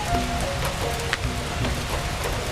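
Steady rain pattering on surfaces outside a bakery on a rainy morning, a constant moderate hiss of drops with a few louder isolated splashes and no voices.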